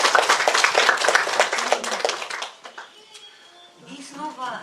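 At a chanson and romance concert, a singer claps for the audience in a quick run of close, sharp handclaps that fade out, followed by a voice speaking.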